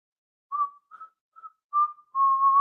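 Someone whistles alone in silence: several short, clear notes, then a longer sustained one trailing into a wavering tone.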